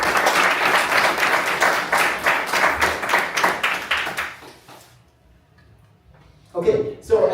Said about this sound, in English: please give him all a big applause